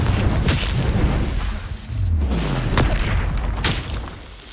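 Confringo blasting curse explosions in Hogwarts Legacy, a run of booming blasts and whooshes over a dense, continuous layer of game noise, with sharp cracks punctuating the steady roar.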